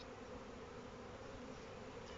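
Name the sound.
black honey bees buzzing around an opened hive frame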